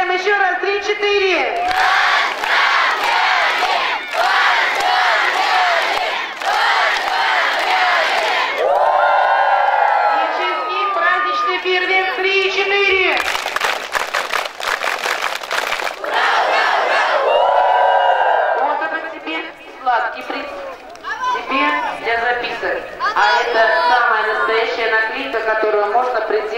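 Crowd of children at a summer camp closing ceremony shouting congratulations three times in loud unison bursts, with cheering and a host speaking between the shouts.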